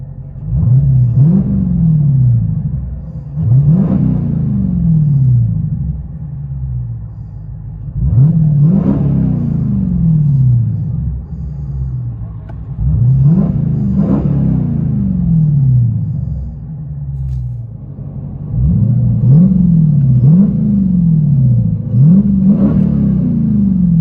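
A 2021 Dodge Challenger R/T Scat Pack V8 fitted with four Dynomax Race Bullet exhausts revs repeatedly, loud rising and falling roars every few seconds over a deep rumbling idle, heard close up.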